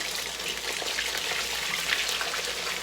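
Cube steak sizzling steadily in a hot pan just after being flipped, a dense, continuous crackling hiss with fine popping, close and fairly loud with no talking.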